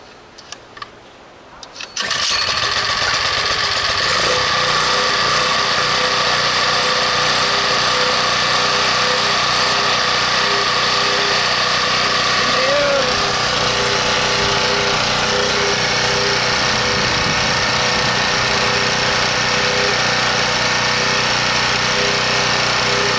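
A new HF 1800 watt portable generator starts after a few brief clicks and then runs steadily, a loud, close, constant buzzing engine drone that holds for the rest of the clip with no talking.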